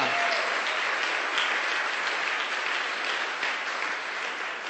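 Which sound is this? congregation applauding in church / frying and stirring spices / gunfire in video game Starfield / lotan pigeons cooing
congregation applauding in church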